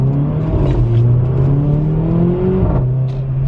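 Mercedes GLA 45 AMG engine blipping to rev-match on a downshift into second gear, a loud close engine note whose pitch sweeps up and then settles, heard alone without talk.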